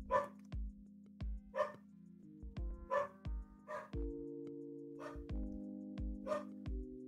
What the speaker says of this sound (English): Somebody's walking down the street, I guess. They're not at the door. That's not the at the door bark.